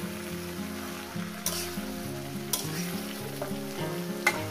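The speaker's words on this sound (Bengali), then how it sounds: "কিভাবে চচ্চড়িটা রান্না করছি, দারুণ খেতে হবে।" Vegetable chorchori frying in a pan, a dense continuous crackling sizzle with occasional soft scrapes of the spatula, close and even in level, no voices.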